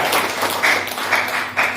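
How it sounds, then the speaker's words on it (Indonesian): A short burst of applause from a church congregation at GPDI Anugerah Turen, steady scattered clapping at moderate volume with no voices. "Berikan tepuk tangan buat PAW"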